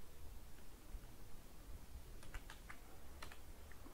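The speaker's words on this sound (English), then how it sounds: "I'm typing my name like this." Soft keystrokes tap on a computer keyboard, a few quiet clustered clicks over steady background hiss in a quiet room.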